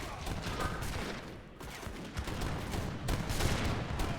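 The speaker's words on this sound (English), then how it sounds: "And some good volleys hit on the Caroleans." Dense crackling musket volleys and scattered gunfire from a battle in Age of Empires 3, rapid overlapping shots with a sharp burst near the end, loud and continuous.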